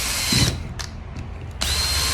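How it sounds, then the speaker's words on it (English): Power drill boring holes into a cap on a homemade bead polisher, with loud bursts of whining drilling at the start and end separated by a quieter pause with faint clicks, no talking. "I'm just going to drill 4 holes."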